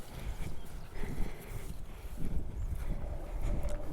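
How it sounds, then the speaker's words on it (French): White Camargue horses move about outdoors near a riverbank, making uneven hoof thuds and soft clip-clop sounds at close range, with faint wind and no talking. "Waouh, des superbes chevaux de Camargue, tout blanc."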